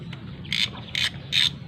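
Ratchet wrench tightening bolts on the left side cover of a Honda Alpha 125 motorcycle, giving four short bursts of rapid clicking at a steady pace, close and fairly loud.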